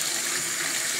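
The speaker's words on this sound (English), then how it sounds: "So I'm just rinsing some of the soap suds out the sink." Tap water runs steadily into a sink, rinsing away soap suds, a close, continuous hissing splash with no talking.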